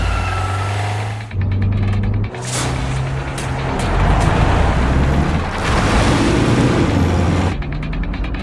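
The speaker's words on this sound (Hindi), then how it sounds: "राज ने अनन्या की कार निकाली" A car pulled out and driven through traffic, a steady, loud engine and road rumble lasting throughout, with mechanical clunks and passing vehicle noise layered in.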